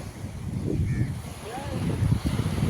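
A vehicle hauls a fishing net up a beach at Fujairah, heard as a low, continuous rumbling drone mixed with wind and surf, with no voices.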